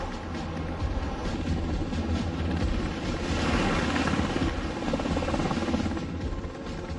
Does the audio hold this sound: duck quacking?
no